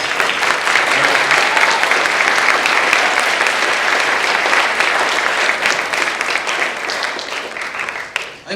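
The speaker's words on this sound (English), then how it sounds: "Please give him a big applause." Sustained applause from a sizable crowd, dense steady clapping throughout that tapers off slightly at the very end.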